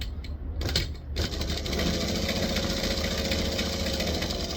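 A sewing machine stitches printed waterproof canvas, running in a steady, close mechanical whirr with a fast repeating needle rhythm after a brief start.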